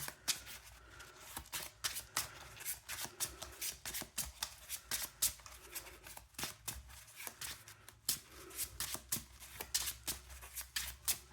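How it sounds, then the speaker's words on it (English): Playing cards being shuffled close up, a steady run of quick riffling bursts and soft slaps with no voices. "then do some more shuffling"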